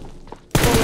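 A single loud shotgun blast in PUBG Mobile, arriving suddenly after a moment of quiet background noise.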